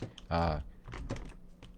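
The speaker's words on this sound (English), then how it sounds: "my keyboard is got something under it" Computer keyboard being typed on and handled: a scatter of quick clicks and knocks at close range, with a brief louder tonal burst near the start that resembles a voice.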